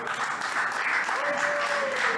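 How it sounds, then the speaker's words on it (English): Sparse, scattered clapping from a small group of spectators at a professional pool match, a thin steady patter under a commentator's talk, with a brief whistle-like tone partway through. "we get no applause there except for a few claps from the Americans"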